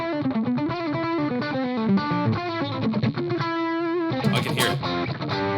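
An electric guitar with single-coil pickups plays a fast melodic run through an Ibanez Vemuram overdrive pedal at full gain, giving a thick, saturated tone that sustains steadily and ends with a bright flurry of notes.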